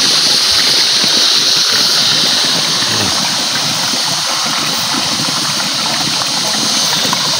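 A small natural water stream in a countryside field rushes in a constant broadband hiss, loud and close, with a faint low hum beneath it and no talking.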